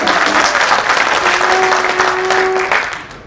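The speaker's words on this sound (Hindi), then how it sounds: "मुशायरे की कामयाबी के लिए एक बार आप जोरदार तालियां बजाएं।" Audience applause at a mushaira poetry gathering in Allahabad, a loud, dense wash of clapping from a large crowd that holds steady before thinning out near the end.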